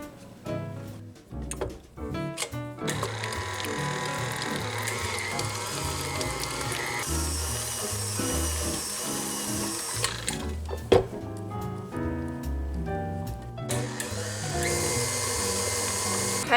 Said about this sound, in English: we're gonna cream together the butter and the cream cheese